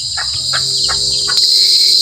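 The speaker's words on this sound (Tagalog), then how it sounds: "Maingay na mga kuliglig" Steady, shrill cricket chirping in the afternoon in a backyard vegetable garden drones close by, loud and constant, with a few soft taps underneath.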